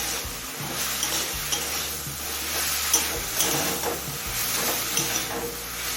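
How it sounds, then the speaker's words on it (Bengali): Red spinach frying in a pan on a medium flame, drying out its water, with steady close sizzling and repeated scraping stir strokes throughout. "এবার মিডিয়াম ফ্লেমে কিছুক্ষণ রান্না করে লাল শাকের সম্পূর্ণ জলটা শুকিয়ে নেব"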